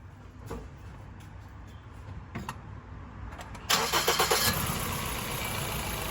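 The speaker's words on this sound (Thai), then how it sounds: "เดี๋ยวลองสตาร์ทดู" A car engine is started: a quiet lead-in with a few clicks, then the engine catches with a loud rise and settles into a steady idle. The car has a hesitating, stumbling fault under acceleration and a gearbox that will not shift.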